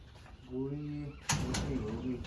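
Pigeons coo in soft, rolling calls, close by, followed by a burst of voices and clatter that carries on under further faint cooing.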